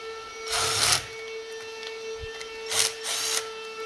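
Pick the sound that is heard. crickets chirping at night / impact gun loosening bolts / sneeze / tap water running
impact gun loosening bolts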